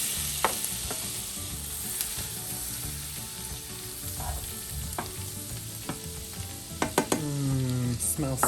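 Garlic fries in melted butter in a pan, a steady close sizzle with scattered clicks and scrapes of stirring, building to a burst of louder spatter and clatter near the end.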